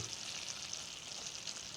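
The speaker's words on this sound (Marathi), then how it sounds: "चांगली उकळी होते याला" Mushroom curry in a Malvani village style bubbling and simmering in a pan, a soft continuous sizzling hiss close by, with no talk.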